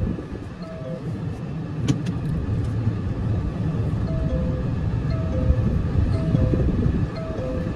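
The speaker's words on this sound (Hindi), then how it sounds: "अब हम हमारी कार को वापस रिवर्स पार्किंग करके और अब हम निकल रहे हैं यहाँ से" Car pulling out and driving off after reverse parking on a trip home past a temple, a steady loud rumble of engine and road noise with faint tonal squeaks, no talking.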